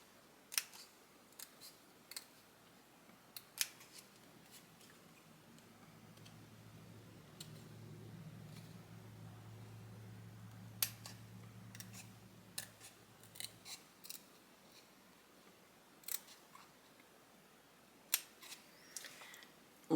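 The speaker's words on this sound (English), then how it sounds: "which will just allow me, I think, to get my scissors in there without bending the paper too much" Pointed Fiskars scissors snip through paper in a run of sharp, separate clicks spread across the stretch, with a low steady hum underneath in the middle and no talking.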